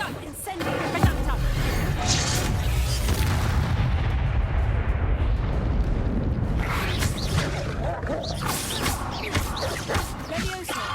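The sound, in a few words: Reducto spell blast in Hogwarts Legacy video game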